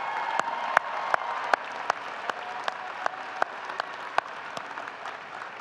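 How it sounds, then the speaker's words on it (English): A commencement audience applauds graduate students at a winter ceremony. Steady, fairly faint clapping from a large hall carries on throughout, with a few sharper nearby claps standing out above the mass. "Let's give our graduate students a round of applause"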